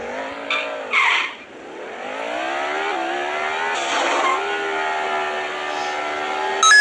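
Car engine in a racing video game revs steadily with rising and falling whines, broken by several sharp tire skids and squeals; loud and continuous throughout, with no talk.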